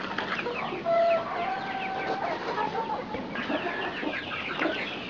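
Bantam chickens, a pair and a few more roaming nearby, clucking and chattering in a steady stream of short calls, close and moderately loud.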